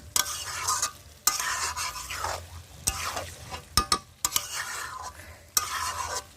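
Chicken being stirred and fried in a pan for a spicy chicken kosha: repeated scraping and clinking of a spatula against the pan over a continuous sizzle, with sharp knocks at irregular intervals, close up and without talk.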